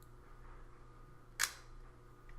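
A single crisp mechanical click from a Nikonos film camera shutter, close and sudden against a quiet background, with nothing else around it.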